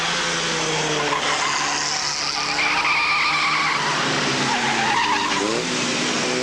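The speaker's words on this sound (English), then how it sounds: "Doug is racing an Austin 7 Ulsteroid" Vintage Austin 7 race cars, including an Ulster-style special, racing through a circuit hairpin at a 750 Motor Club meeting, with a steady loud roar of engines and tyre squeal sustained throughout.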